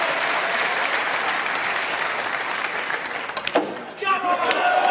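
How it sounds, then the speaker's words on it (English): Snooker crowd at the 2023 UK Championship final between Ronnie O'Sullivan and Ding Junhui, with dense, sustained applause from a packed arena. The clapping dips near the end as a voice briefly speaks over it. "And listen to the crowd here."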